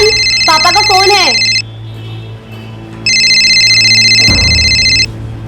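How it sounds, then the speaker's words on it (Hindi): A phone ringtone sounds in two loud electronic bursts separated by a pause, with a rising melodic tone and a thump near the start of the second burst. "जयन, पापा का फोन है।"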